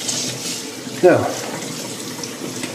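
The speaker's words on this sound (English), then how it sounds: "So we're going to do this in the sink or bucket or somewhere out of the way. And we're going to rinse like this." Running tap water in a sink rinsing a dishwasher filter, a brief close splash and gush rising out of a steady water hiss, with a person speaking.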